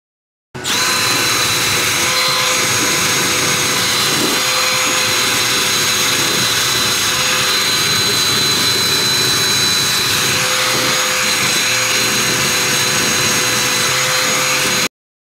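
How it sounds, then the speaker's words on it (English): A power tool fitted with a wire wheel cleans a metal Promark 50703 clamp, giving a loud, steady high-pitched whine and grinding hiss that runs unbroken from start to finish, close up with no talking. "I take a wire wheel to it to try to get into a lot of the crevices"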